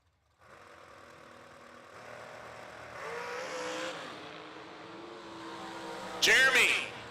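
Two drag racing dragsters at the Mini-Million event run down the strip, their engines droning loud and steady, swelling mid-run before a sharp, intense burst near the end, with announcer talk over the top.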